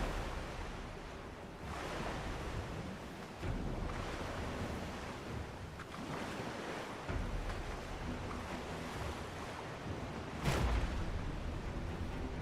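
A ship sails through ocean waves in the Mount & Blade Warsails video game, with a steady rushing wash of surf and wind swelling and easing in broad surges, no voices.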